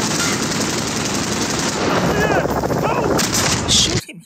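Heavy gunfire in the first-person shooter Call of Duty: Modern Warfare, loud sustained rattling shots with booming impacts, a few whizzing sounds in between, then a sudden cutoff into near silence at the end.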